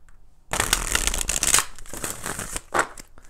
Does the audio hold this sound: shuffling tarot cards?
yes